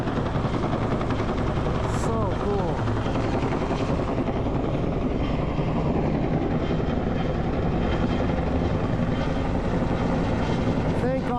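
A rescue helicopter's steady rotor thump and engine drone fill the whole stretch, loud and continuous, with faint voices and a brief burst of other noise partway through.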